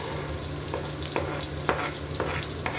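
Garlic frying in oil in a pan on a village stove: continuous crackling sizzle with a few sharp pops from stirring, close and steady, no talk.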